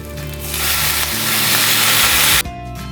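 Amla paste dropped into a hot tempering of mustard seeds, chana dal, urad dal, dried red chillies and curry leaves, giving a loud, steady hiss of sizzling oil that cuts off abruptly near the end.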